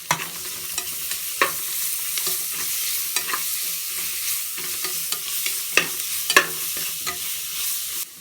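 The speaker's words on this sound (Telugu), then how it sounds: "ఆనియన్స్ బాగా వేగిన తర్వాత అందులోనే 1 స్పూన్ అల్లం వెల్లుల్లి పేస్ట్ వేసుకుంటున్నాను" Onions fry in hot oil while a spoonful of ginger-garlic paste is stirred through them for mutton biryani, a loud steady sizzle broken by repeated scraping strokes of the spoon.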